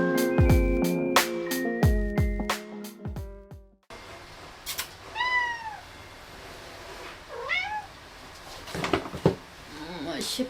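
Small cat meowing several times with short rising and falling calls in a quiet room, close by, after a stretch of music; a woman murmurs softly between the meows.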